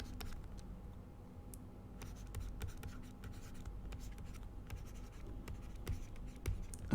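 Chalk or marker writing out a chemical reaction on a classroom board during a live chemistry lesson: soft, steady scratching and tapping strokes, fairly faint, with no talk.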